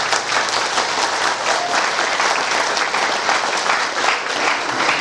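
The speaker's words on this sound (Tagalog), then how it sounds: "Ayaw ko po yung palakpak na napipilitan na. Gusto ko yung may lakas." Loud, sustained applause from a crowd of wedding guests, dense steady clapping filling the room for the whole stretch with no break.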